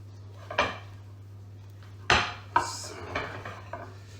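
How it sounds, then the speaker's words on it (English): Coconut milk cookie dough with fudge being mixed in a bowl: a few separate clinks and scrapes of a utensil against the bowl, close and sharp, spaced irregularly over a low steady hum, no speech. "Now let's mix this all together"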